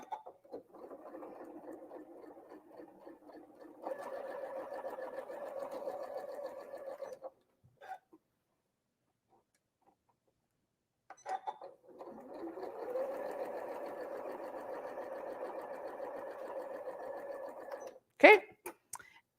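A sewing machine stitches quilt triangles in steady, even runs. The motor stops and starts between seams, with short quiet gaps, and it sounds close and moderately loud.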